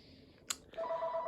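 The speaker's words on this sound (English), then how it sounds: "Sorry about that phone." A telephone rings faintly indoors: a brief click, then a short steady electronic ring tone that carries to the end.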